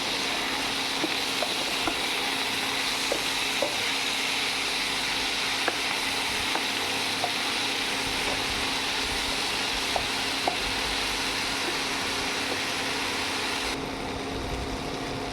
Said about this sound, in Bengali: কিছুক্ষণ নাড়তে থাকবো। নাড়তে নাড়তে যখন এটা থেকে একটু জল ছেড়ে আসবে